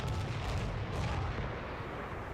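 A stationary cannon fires in Battlefield 1 during a competitive esports match, a heavy booming blast with rumbling low-end decay, somewhat distant and dense, with no talk over it.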